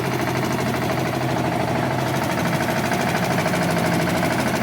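The engine of a 2-in-1 concrete mixer and lift machine runs steadily and loudly close by, a dense, even mechanical drone with a fast rattling pulse and no pauses, and no one speaking.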